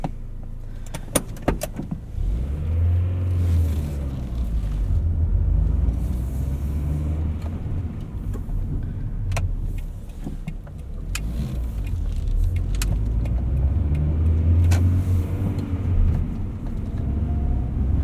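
A 1999 Honda Prelude Type SH with a 5-speed manual gearbox drives along, its engine and road rumble a steady, loud drone from inside the cabin, with a few small clicks near the start and no talking.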